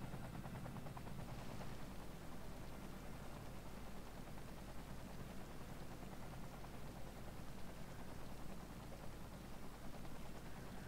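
A helicopter flies over a fire in the city-building game Cities: Skylines Snowfall. Its steady, hissing rotor wash stays constant and fairly quiet throughout.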